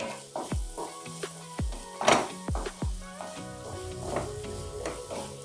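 Spoon stirring carrot halwa with a spoonful of ghee in a pan: repeated soft scraping strokes and occasional thuds against the pan over a low sizzle, close and steady, with no talk.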